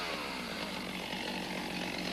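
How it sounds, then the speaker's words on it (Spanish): A Stihl chainsaw engine runs at a loud, steady roar close by, with a dense buzzing drone and no pauses, during a tree felling. "Para un arranque seguro de la motosierra, esta se aprieta entre las piernas"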